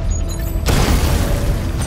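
An explosion in the Batman: Arkham Knight video game booms suddenly out of quieter game sound, a loud broadband blast that roars on for over a second.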